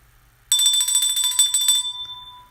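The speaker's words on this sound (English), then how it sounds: "gotta ring the bell" A small luck bell is rung rapidly and close, a bright ringing trill that starts suddenly, lasts over a second and then fades into a clear lingering tone.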